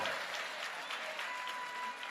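Steady applause from an audience, a dense wash of clapping that holds at an even level throughout.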